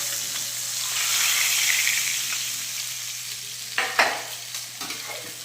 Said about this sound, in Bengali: ফুলকপি আলুটাও ভাজা ভাজা হয়ে গিয়েছে।